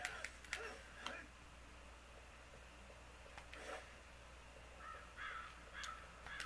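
Crows in the Oninaki video game caw in short harsh bursts, a few spaced calls over a quiet hiss, alongside scattered game ticks and chirps, with no voices.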